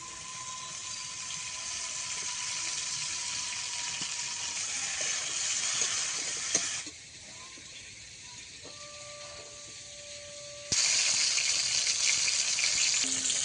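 Potatoes and pointed gourd fry in oil with a steady, close hiss and sizzle. The sound dips quieter midway, then surges louder again near the end, with no voices over it.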